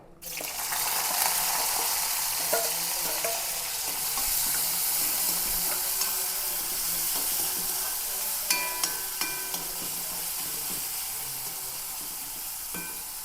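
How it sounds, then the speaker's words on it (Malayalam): Steady, loud sizzling of onion, garlic and green chilli frying in hot oil continues throughout, broken now and then by light clicks of a utensil against the pan. "ചട്ടി വെച്ചിട്ടുണ്ട് എണ്ണ ഒഴിച്ചിട്ടുണ്ട് എണ്ണ വാനിട്ടുണ്ട് ഇതിൽ ഉള്ളി വെളുത്തുള്ളി പച്ചമുളക് അങ്ങനെ ഇട്ട് കൊടുക്കാം"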